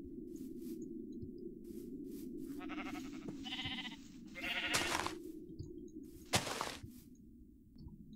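Sheep in a Minecraft world bleat in short repeated calls at a moderate distance, a few spaced bleats over a steady low ambient hum.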